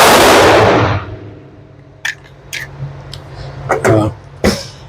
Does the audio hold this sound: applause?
no